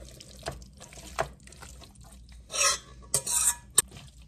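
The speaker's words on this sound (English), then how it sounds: "We will give this a stir." Buffalo chicken dip ingredients are stirred in a bowl, with a few soft scraping and clinking strokes and one or two sharper spoon taps, close and fairly quiet.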